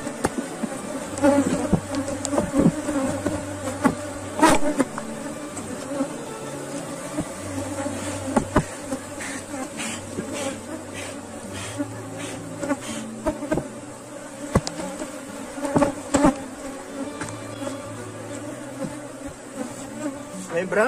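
A bee swarm buzzes inside a hive box, a dense, fluctuating hum of many bees punctuated by occasional sharp knocks and handling sounds close by.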